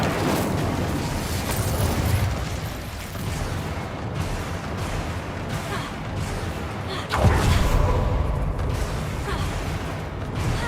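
The Incendio fire spell cast in Hogwarts Legacy, a rumbling fiery burst with crackling texture, swelling again near the end, heard close with game ambience around it.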